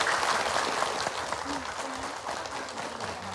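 Studio audience at a television talk show gives a brief, dense round of applause, heard at a fairly low level with voices talking over it.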